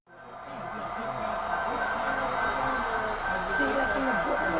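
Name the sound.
model train running at a train show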